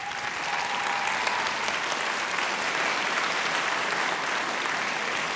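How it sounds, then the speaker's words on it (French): A studio audience applauds through a gala evening of the Castel Live Opera singing show, steady dense clapping sustained at an even level from start to finish with no voices. "Mesdames et messieurs, applaudissements"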